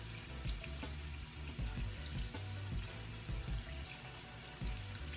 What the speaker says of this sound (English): it is time to go rinse it under some cool water